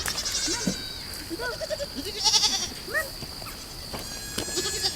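Several goats bleat in short wavering calls, some near and some farther off, scattered across an outdoor pasture with a steady high insect-like hum underneath.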